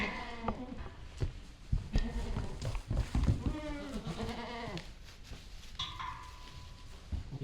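Baby goats out in the open for the first time bleat in short, wavering cries, several overlapping at close range, with a dog barking and some rustling around them.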